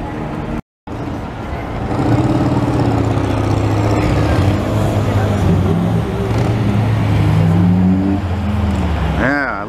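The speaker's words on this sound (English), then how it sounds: "at least here we can get a little more car action, a little more engine noise" Cars cruise a Montreal street during Grand Prix weekend, engines droning and a vehicle passing close by, with a rising engine note near the end; a brief dropout interrupts the steady traffic noise, and people talk faintly underneath.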